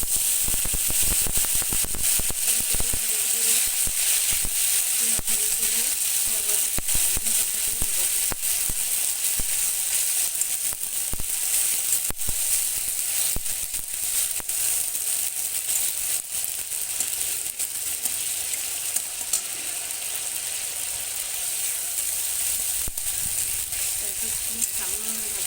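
Ginger and cumin paste fries in hot oil with bay leaves and whole spices for an egg kofta curry, giving a steady, close, continuous sizzle and crackle throughout.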